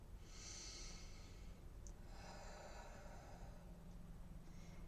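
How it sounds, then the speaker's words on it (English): A person takes one slow, deep breath, drawing in and letting out a soft, airy hiss. It is very faint and close, with no talking. "Let's take a nice deep breath."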